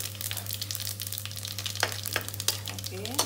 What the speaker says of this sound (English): adding in my fennel seed